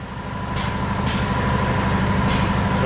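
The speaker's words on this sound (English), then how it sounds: "pardon the noise, everything's hooked up to the compressor" A steady mechanical drone of a running air compressor, close and loud, with a few sharp hissing bursts of air release.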